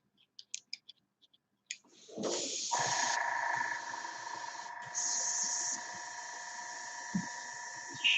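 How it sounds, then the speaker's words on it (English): An airbrush clicks a few times, then blasts a steady hissing spray of leftover paint to clear it, the jet rising and falling in pitch for several seconds before stopping with a short puff. "I didn't do the best job of cleaning out this airbrush when I used it earlier today."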